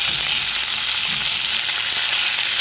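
Cucumber pieces drop into a frying pan of tomato and drumstick curry, giving a steady, loud, close sizzle and crackle throughout with no talking.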